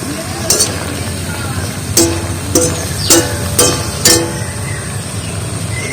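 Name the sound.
boiled fig vegetables being fried dry in pan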